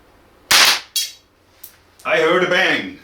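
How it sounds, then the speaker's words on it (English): An archery arrow fitted with a primer ignites with a sharp, loud bang, followed by a second quicker crack and a faint tick, then a longer burst of clattering and rattling noise close by. "Now we will test the primer here, see if it ignites"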